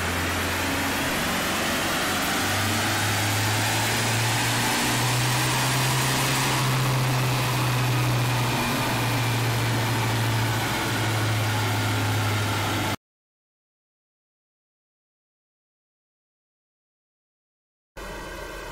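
A tuned Isuzu D-Max 3.0 turbo-diesel (4JJ3) runs steadily on a wheel dyno, giving a loud continuous drone with a shifting engine tone. It cuts to silence, then briefly returns at the end.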